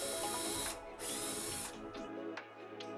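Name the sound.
drilling through IKEA PAX wardrobe frames with 5mm bit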